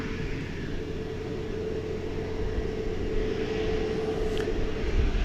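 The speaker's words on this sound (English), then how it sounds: "About to take off there, American Flight 662, an Airbus A321neo going to Denver, Colorado" An American Airlines Airbus A321neo on its takeoff run at Dallas-Fort Worth airport, a broad steady jet roar that builds slightly toward the end, heard from a distance with no speech.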